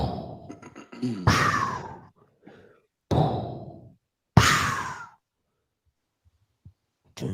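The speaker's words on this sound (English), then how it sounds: "It's Vader breathing." Darth Vader's mechanical respirator breathing: several loud, harsh hissing inhale and exhale cycles separated by short silences, up close and with no other sound.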